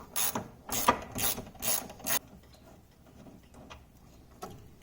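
A socket wrench ratchets to loosen an A-arm bolt during a front bushing replacement on a Polaris Sportsman 450 ATV. Several quick, close ratcheting bursts come first, followed by faint scattered clicks.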